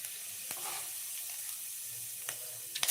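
Cumin and urad dal sizzle steadily in hot oil after mustard seeds have popped, tempering for avalakki uppittu (poha). A soft continuous frying hiss runs throughout, with a few faint clicks and pops.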